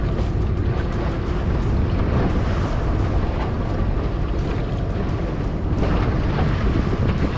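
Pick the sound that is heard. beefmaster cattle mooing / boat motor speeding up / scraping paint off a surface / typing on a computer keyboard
boat motor speeding up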